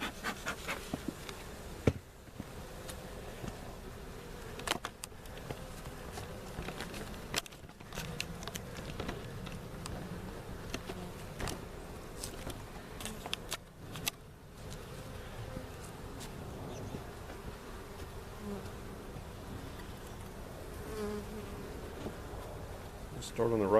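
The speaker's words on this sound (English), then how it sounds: "there's quite a few bees in there still" Honeybees buzz steadily inside an opened beehive brood box during a spring brood box rotation, a dense, continuous drone close to the listener with occasional rustles and handling sounds.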